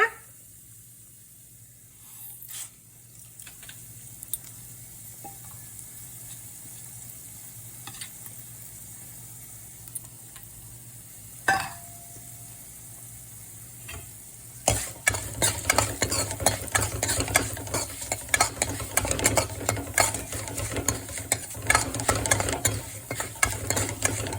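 Cumin, coriander seeds and fenugreek frying in a pan for sambar start as a quiet, faint sizzle with occasional utensil taps, then burst into a loud crackling, spattering fry with steady stirring scrapes.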